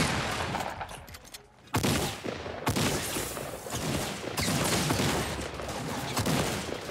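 Rapid bursts of gunfire ring out in a Fortnite match, repeated volleys of shots filling the scene loudly and nearly continuously over in-game ambience, with no talk heard.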